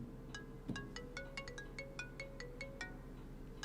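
A mobile phone ringtone in a police station: a steady, repeating pattern of bright melodic beeps at moderate level, with a single dull thump early on and no voices.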